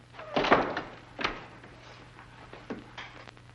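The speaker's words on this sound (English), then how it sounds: "Lock the door again." A door is pushed shut with a solid thunk and then locked, followed by a few softer clicks and knocks in a quiet room.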